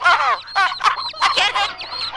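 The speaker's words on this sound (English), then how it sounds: "the chickens are approaching the winner stand" Chickens cluck in a quick series of close, loud, busy calls that fill the whole moment, with no talking.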